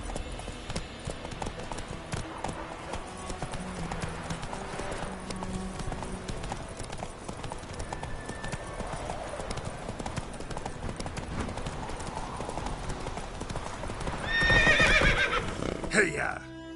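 Horse galloping from Witcher 3, rapid hoofbeats running throughout with a loud neigh near the end, game music and voices underneath.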